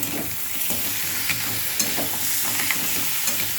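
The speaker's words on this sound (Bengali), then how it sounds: "এবার এই সসটাকে একটু এর সাথে ভালো করে মিশিয়ে দেব।" Tomato sauce being stirred into a crab masala in a frying pan, a soft continuous sizzle with scattered scraping clicks of the spoon, moderately close and steady, with no talking.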